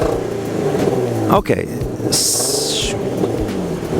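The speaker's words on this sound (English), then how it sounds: "rev it up a little bit for us" A car with an automatic transmission and a suspected exhaust fault revs steadily and loudly up close, with a brief rise in pitch midway, while a voice speaks briefly over it.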